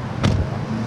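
Cars passing on a city street, a steady close engine rumble with a brief louder surge as a vehicle goes by.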